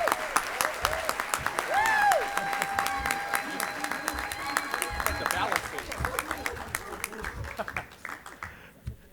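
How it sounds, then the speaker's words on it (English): A crowd at a university-sponsored morning event breaks into warm applause that builds and then tapers off, with a brief musical tone sounding near the start. "So please give a big round of applause to Father Larry from Brescia."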